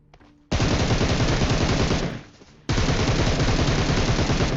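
Loud automatic gunfire in PUBG Mobile, a long continuous burst that fades briefly, then a second sustained burst of rapid shots close up with no talking.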